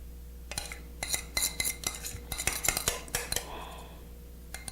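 A spoon clinks and scrapes against a dish while cheese sauce is spooned over mac and cheese, a run of sharp metallic taps and knocks close by over a steady background hum, no talking.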